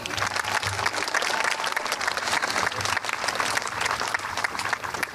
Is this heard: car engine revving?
no